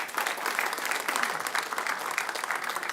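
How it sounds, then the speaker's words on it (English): Applause fills a city council chamber after a World Polio Day proclamation, a dense, steady round of clapping from the audience lasting about three seconds. "Can I get a round of applause?"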